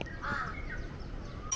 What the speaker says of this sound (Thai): มีเสียงนกร้องด้วย